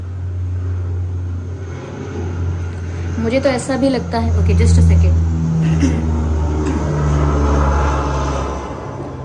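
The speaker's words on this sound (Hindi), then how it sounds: "ये एरोप्लेन की आवाज़ थी" Low propeller-aircraft drone overhead, building to a loud swell mid-clip and then easing off, with someone talking over it throughout.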